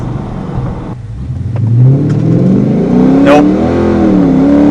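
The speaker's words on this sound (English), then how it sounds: "I'm just spinning the tires." A car accelerates with its tires spinning for lack of grip, the engine note climbing into a loud, rising whine and holding high. Someone speaks one short word.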